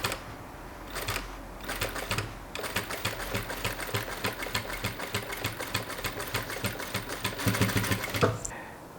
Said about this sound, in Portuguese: Depois de fazer a costura com o pé de máquina, dobre a borda para fora